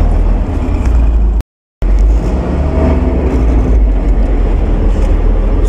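A car rolls home on newly fitted larger Uragan wheels with a loud, steady road rumble and engine drone, broken by a brief dropout, and no talk.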